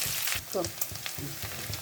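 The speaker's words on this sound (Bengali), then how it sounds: "একটু তেলের ওপর নেড়ে নিলে গন্ধটা ভালো হয়।" Ground spices and garlic paste frying in hot oil for a Bengali tarka: a dense, steady sizzle up close, broken by soft stirring scrapes and small pops, with no voices.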